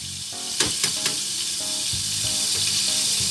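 Butter sizzles and crackles steadily in a hot frying pan, with a few sharp clinks of a utensil early on over a low background hum.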